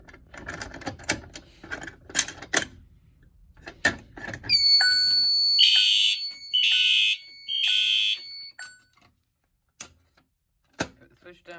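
Fire alarm horns blare in three long, loud, steady bursts during a walk test of a building fire alarm system, following handling clatter and brief talk, then silence with a few clicks.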